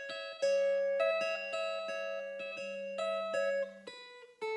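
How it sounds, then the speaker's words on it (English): Second layered guitar melody for a beat: clean plucked notes ringing in a steady sequence with sustained tones underneath, fairly quiet and heard alone. "Then the second guitar melody sounds like this."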